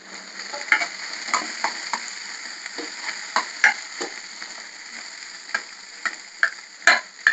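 Onions, curry leaves and ginger-garlic fry in a pan, giving a steady close sizzle broken by sharp crackles and pops as the food is stirred, with no voices.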